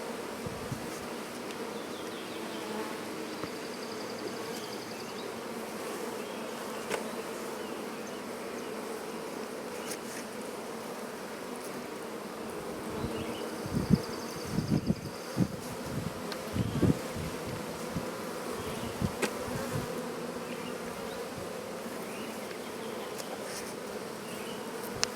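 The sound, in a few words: bees buzzing around a cat house hive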